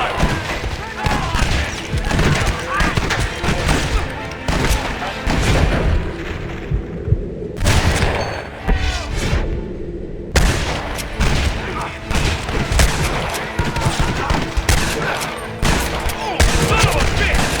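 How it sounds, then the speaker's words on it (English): Gatling gun in Red Dead Redemption: sustained rapid-fire bursts and booming impacts that keep going with brief lulls, mixed with other gunfire and voices in a chaotic battle. "Marston, what about the Gatling gun?"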